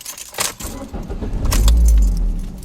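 Keys jangle close by, then a manual-transmission car engine cranks and catches with a rising low rumble that settles into an idle.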